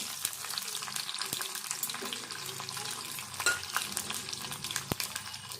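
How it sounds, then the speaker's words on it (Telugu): Onions sizzle and fry in hot tempering oil with cumin and mustard seeds, a steady crackling hiss broken by occasional stirring clinks of a spoon against the pan. "తాలింపు ఇట్లా వేగినాక ఉల్లిపాయ వేసుకున్నాము."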